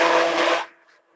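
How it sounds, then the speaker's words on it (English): A handheld immersion blender whirs loudly in a bowl for about half a second, then cuts off, leaving quiet near-silence. "if you're using an immersion blender"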